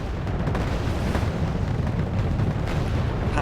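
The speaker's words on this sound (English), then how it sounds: "when NATO starts firing in their mortars right now, it's not just one, it's probably 2 dozen" Mortar fire in Wargame Airland Battle, with NATO mortars firing in numbers, comes as a dense, continuous rumble of overlapping booms and distant blasts, loud and unbroken throughout.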